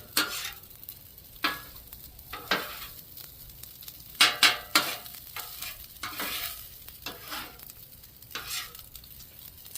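Vegetable fried rice stir-fried in a pan, with a steady sizzle broken by repeated scraping strokes and sharp clanks of a utensil against the pan, close up and with no talking.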